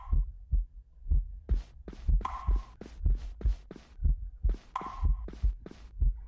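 Heartbeat effect from a horror video game, a steady run of deep double thumps pulsing roughly once a second, loud and close, with brief higher tonal stings layered over a few beats and no talking.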